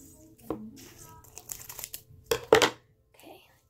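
Gold glitter bag being cut open and poured out, with crinkling plastic, a snip and a louder rustling burst near the end; quiet and close, with no talk.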